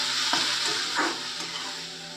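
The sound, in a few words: stirring sago momo filling with salt and sugar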